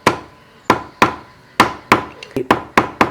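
A rubber mallet strikes a motorcycle sprocket during chain and sprocket work, giving about nine sharp, close knocks at an uneven rhythm, each ringing briefly before the next.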